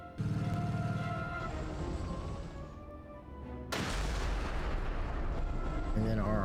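Artillery fire in the World War II strategy video game Commander: World War II: loud, booming shell blasts with rumbling tails, a second heavy burst midway, and game sound effects over a dense, loud mix.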